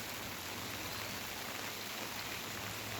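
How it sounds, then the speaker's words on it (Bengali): Light rain hisses softly and steadily, a faint, even patter with no voices. "দেখছেন এইভাবে গুড়ি গুড়ি বৃষ্টি পড়ছে"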